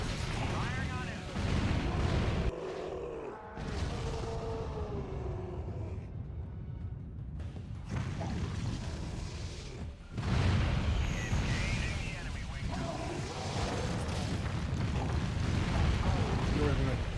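Gunfire and explosions from the Incredible Hulk: Ultimate Destruction video game rumble loudly and almost continuously, with dense booms and bursts running through the whole stretch and voices talking over the action.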